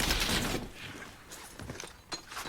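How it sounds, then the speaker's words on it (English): A burst of rapid unsuppressed gunfire in the video game Warzone up front, followed by a few scattered, fainter shots. "Must have heard the gunfire because it's unsuppressed weapon"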